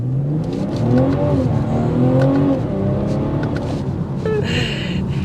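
A 2023 BMW M340i pulls away hard from a standstill in Sport Plus, its engine note climbing in rising harmonic sweeps as it accelerates, loud and close throughout with a brief higher whine near the end.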